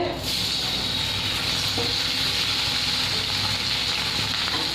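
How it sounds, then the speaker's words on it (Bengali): Steady, loud sizzling of paneer frying in hot oil, with a constant hiss and scattered spattering of oil throughout, no voices. "এই যে এখানে পনির ভাজা আবারই তেল ছিটছে"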